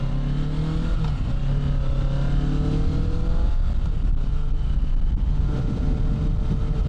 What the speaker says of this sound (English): that was a smooth upshift there